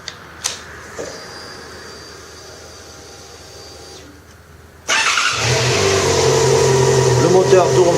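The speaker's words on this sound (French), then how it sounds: "Le moteur tourne correctement, pas de bruit anormal" A few clicks and a quiet electrical whine, then a motorcycle engine fires up abruptly and settles into a loud, steady running idle.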